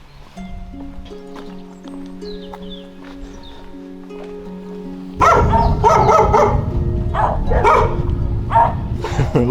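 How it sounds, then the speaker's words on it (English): Dogs on a rainy day in Madeira bark in loud, close bursts that begin partway through after a quieter stretch of background hum, several barks overlapping in quick succession. "They're sweet dogs."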